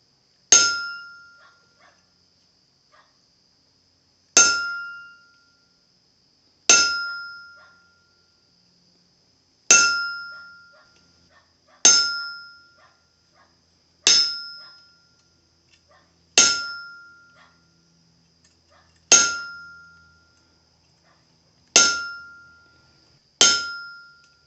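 A blacksmith strikes a dull steel punch with a hammer to forge veins into a leaf, producing about ten sharp ringing clangs spaced a couple of seconds apart, each decaying cleanly into silence.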